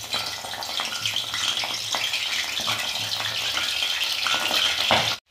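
Cauliflower shallow-fries in hot oil, a loud close sizzle with crackling spatter and stirring noises that keep going without a break and then stop suddenly at the end.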